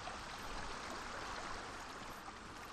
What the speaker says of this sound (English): Oh, a waterfall.